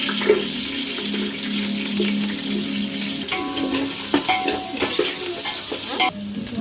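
Chopped onion sizzles and fries in a pan for gonguura chicken biryani, with steady scraping stir strokes throughout and some watery hiss; close and fairly loud, no talking.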